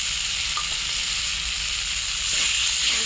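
Fish roe dropped into a pan of sizzling fried spice paste, a close, steady frying hiss that swells slightly toward the end, with no voices.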